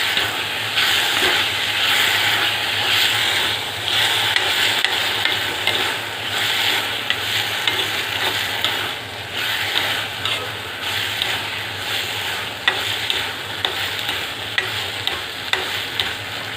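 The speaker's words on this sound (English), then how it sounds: "We'll mix it up well." Soya manchurian sizzles and hisses loudly in a hot pan while it is stirred, a dense continuous frying roar with small scraping ticks from the spoon.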